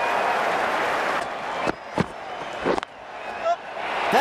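Crowd cheering and applause from the Ashes Cricket 19 video game during a T20 match between India and New Zealand, a steady broad roar with a few sharp knocks and swells over the last seconds.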